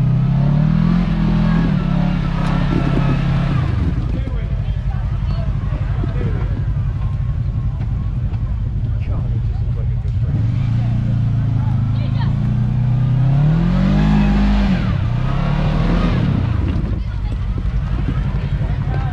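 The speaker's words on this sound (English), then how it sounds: "First time seeing the KRX go up it." Kawasaki KRX side-by-side engine revving hard as it tries to climb a hill, with loud rising and falling engine pitch sweeps throughout and voices talking over it.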